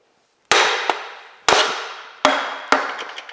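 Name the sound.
hammering a cylinder sleeve out through a wood block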